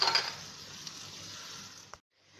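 Potato pie frying in a frying pan, a steady hiss of sizzling oil with a faint clink near the end before the sound cuts off.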